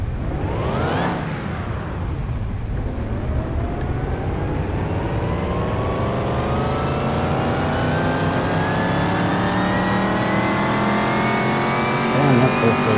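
A car engine in Car Mechanic Simulator 2021 revs hard on a dyno, pitch sweeping steadily upward into a long, loud sustained high-rpm wail with dense harmonics, alone without talk.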